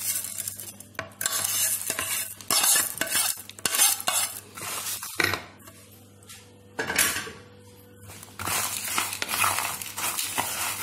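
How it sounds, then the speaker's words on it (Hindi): Spices for masala namkeen, with roasted cumin, pepper and salt, being stirred and mixed in a pan, giving repeated scraping, rustling strokes in close bursts with short pauses between them and no talk. "तो ये मैं सारा इसे मिक्स कर देती हूँ।"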